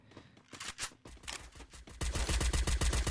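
Rapid bursts of enemy gunfire in a video game, starting as sparse cracks and building into dense, loud automatic fire over a few seconds, with no voices.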